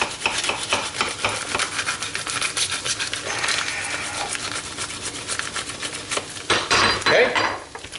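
A kitchen knife saws through strips of bacon in half, giving repeated scraping strokes against a cutting surface with metallic clinks, close and steady.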